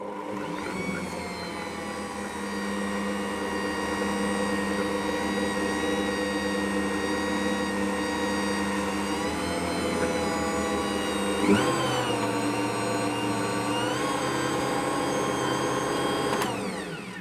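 An Ankarsrum stand mixer mixing flour into a shaggy focaccia dough gives a steady, droning motor whir with a constant hum throughout and slight shifts in pitch as the dough comes together.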